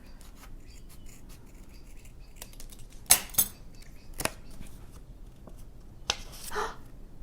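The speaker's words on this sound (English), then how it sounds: "What happens when you cut it out?" Scissors cutting through folded paper, with scattered soft snips and a few sharper crisp cuts and rustles, close but fairly quiet, with no talk.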